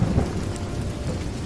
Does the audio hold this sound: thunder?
yes